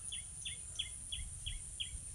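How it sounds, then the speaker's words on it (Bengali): A faint bird gives a short, high chirp about six times at an even pace over a soft outdoor background hum. "আর এখানে পাখির ডাক শুনতে পাচ্ছি"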